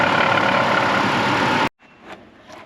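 A Chevy Colorado engine idles close by with a suspected serpentine belt or tensioner fault, making a loud, dense, steady whirring roar. It stops abruptly after under two seconds, leaving quieter background noise.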